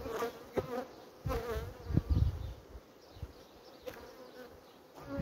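Honey bees in a queen-rearing starter colony drawn from a strong hive, a steady close buzzing hum with occasional louder passes and handling knocks.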